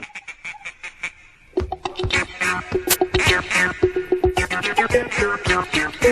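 Repeated nasal quacking from a group of ducks, rapid and loud, starting sparse then building into a busy overlapping chorus.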